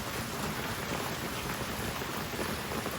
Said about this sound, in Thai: ฝนเนี่ยตกหนักมาก